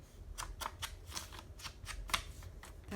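Long scissors snipping through paper for crafting, a quick series of about a dozen close, crisp cuts in a steady rhythm, faint and without talk.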